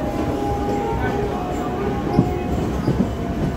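Local train rolling into a station near Belur Math, Kolkata, with a loud steady rumble, rail clatter and brief wheel squeals, while someone talks nearby.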